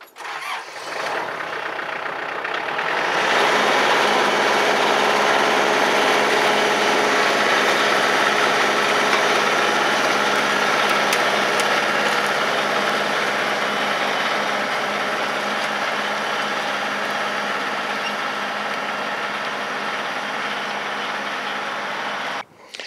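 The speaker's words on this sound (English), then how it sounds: "I turned the tractor around and came back and did the other side." A tractor engine runs steadily while spreading wood chips for a garden, a loud, continuous mechanical drone that rises from quiet in the first few seconds and then holds at an even level with no talking.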